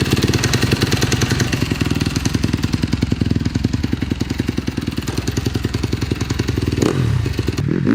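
A dirt bike engine revs loud and close throughout, a dense rapid pulsing roar with a brief dip and rise near the end, with clattering mechanical noise underneath.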